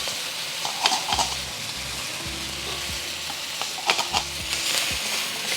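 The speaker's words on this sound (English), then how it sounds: "I'm gonna add my garlic just directly in." Garlic and onion sizzling in a wok for Spam and kimchi fried rice, a steady close crackle with scattered spatula scrapes and knocks against the metal, no speech.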